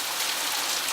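Heavy rain pours down outside on a January afternoon, a dense, steady hiss of drops with no pauses, loud and close.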